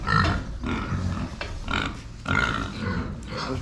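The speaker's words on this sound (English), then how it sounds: "Anyways, here are all the pigs." Several pigs in a barn on a hobby farm grunt and snort in irregular bursts, close and moderately loud, with no talking.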